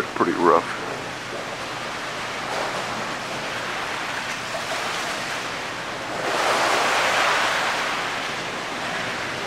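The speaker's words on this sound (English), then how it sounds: "Even this water here is pretty rough." Rough sea water churns and washes alongside a Caribbean cruise ship, a steady hissing surf that swells louder near the end, with a brief knock at the start.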